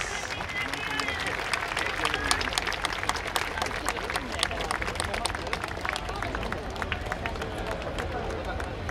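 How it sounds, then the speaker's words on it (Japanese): Festival audience applauding at the YOSAKOI festival, during the final stage results ceremony at the city plaza of the 27th Sendai Michinoku YOSAKOI festival 2024. Dense, sustained clapping runs throughout, mixed with crowd noise and voices. "今一度大きな拍手をお願いいたします。"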